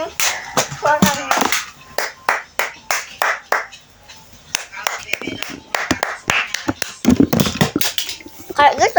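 Sharp hand claps, loud and close, come in irregular bursts with a spoken voice between and over them.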